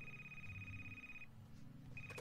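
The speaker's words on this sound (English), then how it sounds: "That's the phone." A telephone rings inside an office in the video game Neofeud. A steady electronic tone holds for over a second, cuts out, then starts again near the end, laid over a low hum of background music.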